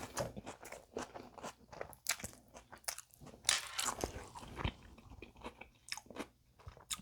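Someone bites into and chews a McDonald's pepperoni pizza burger on a soccer-ball-shaped bun, with soft crunches and wet chewing in quick, irregular bursts, close but quiet.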